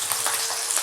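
Potato pieces frying in hot oil give a steady, close, fairly loud sizzle with no talk over it.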